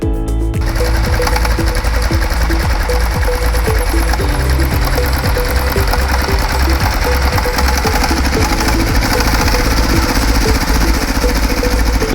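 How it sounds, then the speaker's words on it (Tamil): A 2013 Sifang power tiller engine starts with a brief burst, then runs at a steady, loud rattling chug that continues throughout, with no voices. "இனி நாங்கள் லேண்ட் மாஸ்டரை ஸ்டார்ட் பண்ணி பார்க்க போகிறோம்"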